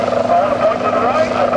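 A helicopter at the 2009 NAS Oceana airshow climbs with a steady, loud engine and rotor drone, heard up close from inside, with voices talking over it.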